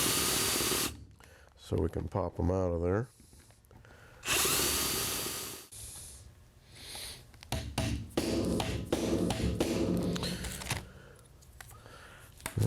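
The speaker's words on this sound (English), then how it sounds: "We're just drilling out the flared part of the rivet," A power drill whines in short and longer bursts as it bores through metal rivets on a 1967-72 Chevy pickup vent window, interspersed with clicks and someone speaking nearby.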